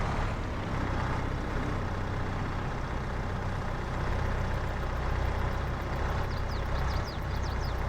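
Tractor in Farming Simulator 22 on a realistic Iowa plains map, a steady, loud engine drone with low rumble running continuously, with a few faint high clicks near the end.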